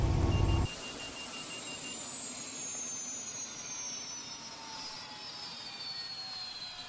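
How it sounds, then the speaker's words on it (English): A Bell 407 helicopter engine in X-Plane 12 cuts off after a loud low rumble, and a high turbine whine slowly falls in pitch as it winds down, with a steady hiss underneath. "Kill the engine."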